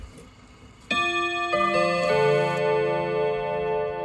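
An Odo 54/10 chiming clock plays a sequence of ringing metallic notes, each struck tone layering over the last and sustaining in a bright, resonant decay with no speech.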